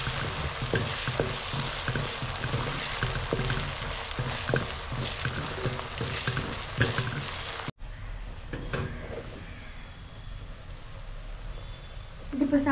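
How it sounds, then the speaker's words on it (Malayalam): Onions and garlic fry loudly in a pan for Kerala-style beef fry, a dense continuous sizzle with spoon scrapes and stirring; the hiss softens partway through as the pan settles. "അതെല്ലാം കൂട്ടിട്ടൊന്ന് ഇളക്കാം ഇനി ഇളക്കുന്നതിലേക്ക് നമുക്ക് ഒരു കുടി വെളുത്തുള്ളി ഇട്ട് കൊടുക്കാം"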